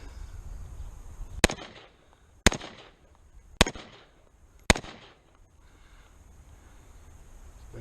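Four sharp, loud 1911 pistol shots fitted with a CMC 3.5 lb flat trigger, spaced about a second apart outdoors, each with a short echoing tail.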